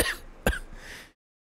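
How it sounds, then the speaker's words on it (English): A woman coughs twice in a fan-made telling of Morigesh's origin: a first rough burst, then a sharper, louder second cough, close and with no talking, before falling silent. "As she grows near, she starts coughing."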